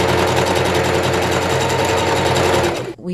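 A sewing machine stitches denim patchwork for a bucket hat, running loud and close in a fast, steady mechanical chatter before abruptly stopping near the end.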